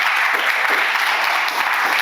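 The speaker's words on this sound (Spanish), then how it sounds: "Dale un aplauso al Señor por la vida de ellos." Church congregation applauding together during a service, a loud, dense, continuous clapping that fills the room.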